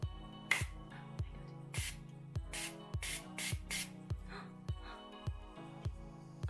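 Pink hair colour spray hissing from a can in a series of short bursts, roughly a dozen quick sprays in an uneven rhythm, close and moderately loud, with no talking.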